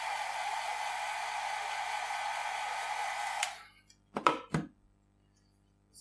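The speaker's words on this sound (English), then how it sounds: "And again I'm drying it with my dryer." A hair dryer blows with a steady rushing hiss for a few seconds, drying alcohol ink on a flower painting, then shuts off, followed by a couple of soft thumps.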